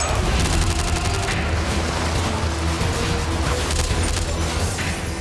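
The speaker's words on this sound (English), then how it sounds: "the extremists burst into the theatre, rake the foyer with gunfire" Extremists storm a theatre foyer with sustained gunfire: a loud, dense, unbroken barrage of shots and booming noise that fills the space, with rapid crackling bursts early on.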